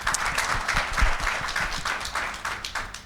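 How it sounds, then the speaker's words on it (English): A conference audience gives a round of applause for the speaker Des: dense, sustained clapping from many hands, loud and even throughout with no talking. "Massive round of applause for Des once again."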